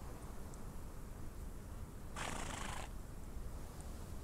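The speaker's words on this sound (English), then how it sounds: "These horses, I just love having the horses." A horse gives a single brief, fairly faint whinny over a steady outdoor hiss, with nothing else standing out.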